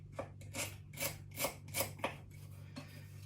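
A woody herb chopped on a board for an air fryer chicken parcel: a knife makes about eight crisp scraping strokes in a steady rhythm, close and fairly quiet over a low hum.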